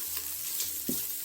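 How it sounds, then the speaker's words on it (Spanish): Ginger sautéing in a pan for chana masala gives a soft, steady frying sizzle with a brief stir or scrape near the end, heard close and alone without talk. "Sofreír esto bien"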